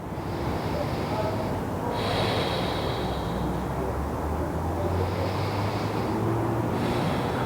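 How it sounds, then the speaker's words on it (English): Slow, deep yoga breathing, long inhales and exhales following one another in an even rhythm, close and fairly loud over a constant airy background. "Let's just go for 2 more rounds of breath here."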